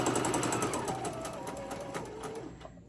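A Singer sewing machine set to straight stitch runs at a rapid, even clatter of needle strokes with a motor whir underneath. It is close and steady for a few seconds, then slows and fades near the end.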